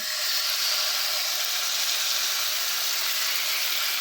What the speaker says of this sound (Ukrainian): Смажити м'ясо потрібно на великому вогні.